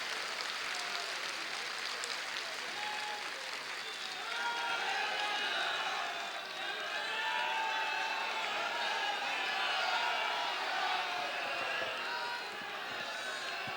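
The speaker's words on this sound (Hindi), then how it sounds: "जरा वो हाथ उठा के तालियों की गड़गड़ाहट से समर्थन करें।" Sustained audience applause at a Sanatan Hindu Mahotsav gathering at Talkatora in Delhi, a steady wash of clapping from a large indoor crowd that rises and falls gently for the full duration.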